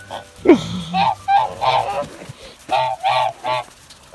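Several Kholmogory geese on the water honk repeatedly nearby, loud nasal calls in uneven bursts with short pauses between them.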